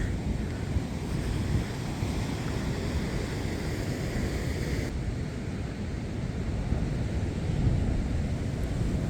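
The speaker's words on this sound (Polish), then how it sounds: "Wszystko mokre tutaj, czyli musi fala tutaj nieźle nawalać" Steady rumbling surf of ocean waves breaking nearby on the south coast of Fuerteventura, with wind buffeting the microphone throughout and no voices.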